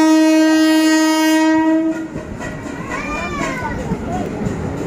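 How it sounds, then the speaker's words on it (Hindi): A passenger train pulls into a station, its horn sounding a long steady blast before giving way to rumbling, screeching wheels and carriage clatter, with voices of people on the platform. "और देखिए हमारी ट्रेन भी आ गई है।"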